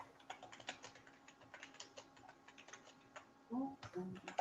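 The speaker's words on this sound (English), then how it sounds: "hear my keyboard a mash. Mm-hmm. Oh, all right. Because a mechanical keyboard." Rapid clicky typing on a mechanical keyboard, quiet and close, with a voice briefly murmuring near the end.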